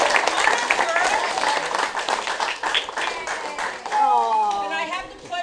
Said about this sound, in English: they would like to do a cheer for us.